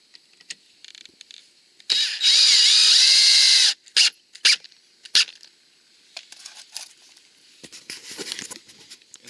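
A power drill drives the bottom screw of a Larson Savannah storm door in one loud, steady whine of about two seconds, followed by short clicks, taps and handling noises.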